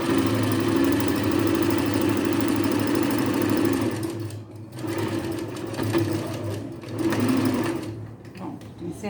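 A sewing machine stitches and backstitches the hem of a short-sleeved blouse, running loud and steady with brief slowdowns as it reverses, a voice speaking over it.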